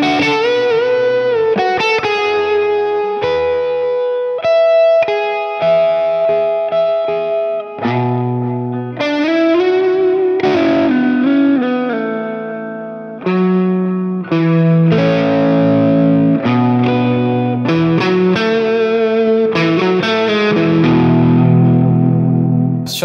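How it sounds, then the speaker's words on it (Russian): Electric guitar played through a Bogner Ecstasy amp plugin with chorus and screamer-style overdrive, a continuous loud run of melodic lines and chords with a shimmering, driven tone, no voices. "Добавим немножко хоруса, может быть, и овердрайва,"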